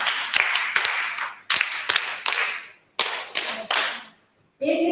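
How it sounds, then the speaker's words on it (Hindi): Women at a conference clap together in short, rhythmic unison bursts, sharp and fairly close, separated by brief pauses, with a voice briefly starting near the end. "ताली।"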